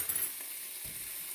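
Pink, boneless, skinless canned salmon is broken up in a frying pan, with a steady sizzle and a few soft scraping pushes close by.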